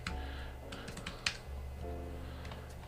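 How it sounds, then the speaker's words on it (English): Computer keyboard keys pressed in a short burst of quick clicky taps, one sharper knock among them, close up over a steady low hum. "Oh, Holly touched my keyboard."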